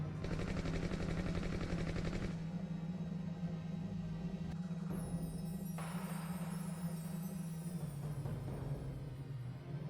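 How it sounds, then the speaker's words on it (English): A Gatling gun in the video game SeaBlade fires as a steady, dense, rapid stream of shots over a deep droning hum. The burst is loud and continuous for a couple of seconds before giving way to rumbling game sounds. "Gatling gun."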